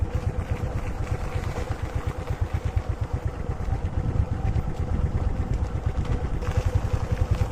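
A vehicle engine running slowly along a hairpin hill road, a steady low pulsing chug with rapid regular beats and a faint clatter, moderately distant.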